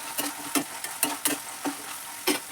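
Green chillies and capsicum frying in a pan for a vegetable kurma, with a steady soft sizzle broken by several sharp scraping stir strokes at irregular intervals, close and clear with no talk.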